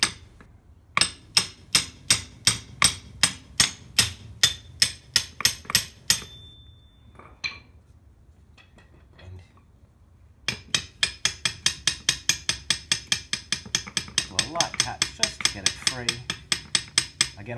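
A hammer taps a differential half shaft in a steady series of sharp ringing metal blows, pauses for a few seconds, then resumes with a faster, longer run of taps.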